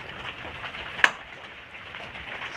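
Steady, soft monsoon rain hisses in the background, with one brief sharper drip or tap standing out near the middle.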